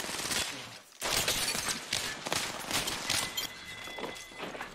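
Rapid bursts of gunfire in an online multiplayer shooter match, with repeated loud cracks and a brief pause near the start.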